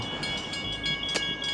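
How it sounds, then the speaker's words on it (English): A train rolls past in Midland, Western Australia, at sunset, a steady close rumble with rhythmic wheel clatter and a high metallic whine, briefly louder as it goes by. "So we're about to see a train."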